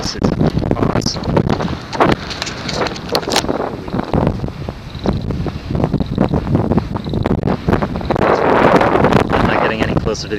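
Gusty wind roars and buffets the microphone loudly and close near a summit edge in El Yunque National Forest, Puerto Rico, surging and easing throughout.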